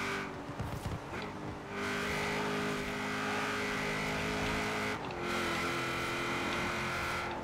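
Ford Focus RS racing in Forza Horizon 4, a loud sustained engine drone that holds steady at high revs, with brief dips at gear shifts and some tire noise.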